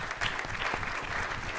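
A conference audience gives a round of applause for the Washington Bureau staff, steady moderate clapping that fills the whole moment without pause.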